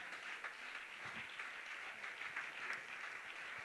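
Congregation applauding in a church service, a faint, steady wash of many hands clapping at once, continuous and fairly distant.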